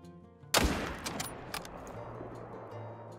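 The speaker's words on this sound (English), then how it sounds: "Beautiful shot with the 30-06." A 30-06 rifle fires once in the hunting video game theHunter Call of the Wild, a sudden sharp crack that rolls into a long fading echo, with faint clicks after it.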